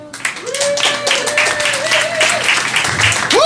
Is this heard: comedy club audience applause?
yes